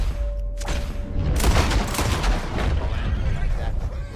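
A loud gunshot fires at a rabbit while hunting in Red Dead Redemption 2, a sharp blast followed by a long rumbling echo across open country, with in-game voices speaking under the noise.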